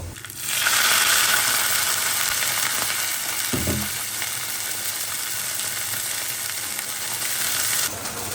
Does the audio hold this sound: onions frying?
yes